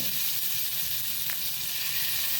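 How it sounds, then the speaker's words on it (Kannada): Prawns frying in hot oil over a raised flame: a continuous, even sizzle and hiss fills the whole stretch at close range, with no talking. "ಈಗ ಉಳಿದ ಇದನ್ನು ಸ್ವಲ್ಪ ಉರಿ ದೊಡ್ಡದು ಮಾಡಿಕೊಂಡು ಅದೇ ಎಣ್ಣೆಯಲ್ಲಿ ಕಾಯಿಸಿದರೆ ಆಯಿತು"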